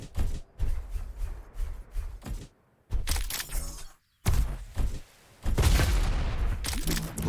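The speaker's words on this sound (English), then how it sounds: "Rockets from nowhere again." Rockets fire and explode in rapid bursts during an Unreal Tournament deathmatch, dense blasts and crashing impacts with brief silent gaps between loud clusters, no talking.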